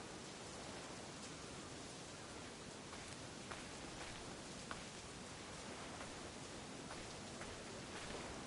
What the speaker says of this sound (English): That's like the look of the rain hitting the ground.